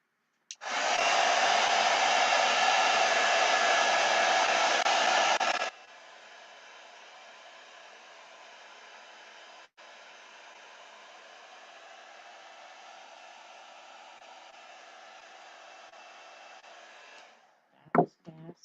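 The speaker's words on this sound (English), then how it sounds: "Heat gun." A heat gun switches on and roars loudly with hot air for several seconds, then drops to a steadier, quieter blowing hiss that runs on at length before cutting off with a click and a brief clatter.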